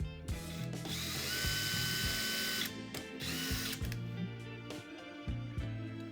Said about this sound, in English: I decided to add 2 small holes into the legs of the stool.